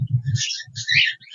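Cockatiel chirping in a bright, high twittering burst, then a second flurry, over a few low soft thumps nearby, all within a second and a half.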